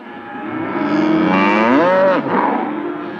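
A cow moos loudly on a beef cattle farm, one long drawn-out call that rises and falls in pitch, close and alone.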